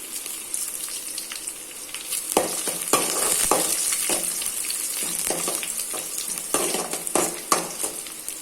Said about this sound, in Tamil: மிளகா மூணு மிளகா காஞ்ச மிளகா புட்டு போட்டு வச்சுருந்தேன் அதை தான் இப்போ போட்டுக்கிறோம்